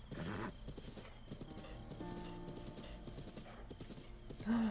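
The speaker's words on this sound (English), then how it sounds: "I have a horse!" Horse hooves clip-clop at a steady gait in The Legend of Zelda: Breath of the Wild, followed by a sharp whinny at the end, with a voice speaking faintly underneath.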